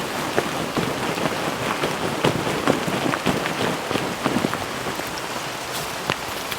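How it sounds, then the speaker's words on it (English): Steady rain pattering down in woodland during warm summer weather, a continuous close hiss of drops with scattered sharper taps landing on nearby surfaces. "we've got a bit of rain coming down, but it's not too bad underneath here."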